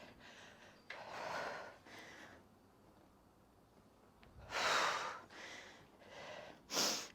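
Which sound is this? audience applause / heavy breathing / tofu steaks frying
heavy breathing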